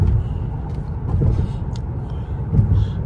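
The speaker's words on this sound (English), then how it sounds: "Traffic." City traffic in New York rumbles outside a 2024 Mercedes-Benz AMG S580 while driving, a steady low drone with a couple of faint hissing air-brake bursts, muffled as if heard from inside the cabin.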